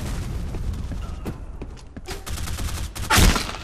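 Gunfire from a CZ weapon in the online shooter game Black Squad, a few sharp shots scattered over background game noise, ending in one loud close blast, with no talking.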